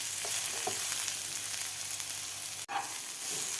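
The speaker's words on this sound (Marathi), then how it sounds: "आता भाज्या आपल्याला हे मोठ्या गॅसवर 2 मिनिटं परतून घ्यायचं आहे." Vegetables for an egg roll stir-fry on high gas, a loud unbroken sizzle with occasional spatula scrapes and one brief dropout before the frying roars back, nobody speaking.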